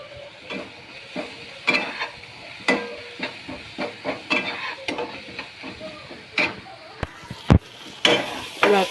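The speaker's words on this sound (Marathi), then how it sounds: "कांदा टोमॅटो भाजला." Onion and tomato frying with asafoetida and kokum in a pan, a continuous close sizzle punctuated by irregular spoon scrapes and clanks against the vessel.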